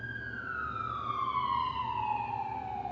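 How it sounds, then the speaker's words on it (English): A steady emergency siren wails outdoors, a single long tone that slowly falls in pitch, loud and continuous over a low background hum. "the sirens are going again."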